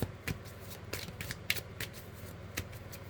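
A tarot card deck is shuffled by hand at close range, giving a run of crisp riffling snaps and soft card flutters over about three seconds, with no talking.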